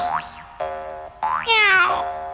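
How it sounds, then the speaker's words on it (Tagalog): A cartoon cat in a Doraemon episode gives a few rising, wavering meows with boing-like sweeps, clear and fairly close over a quiet background. "Bakit may pusa dito?"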